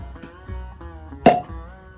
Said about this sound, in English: that's the best cork pop I've gotten from a synthetic cork